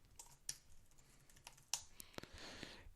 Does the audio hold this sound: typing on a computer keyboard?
yes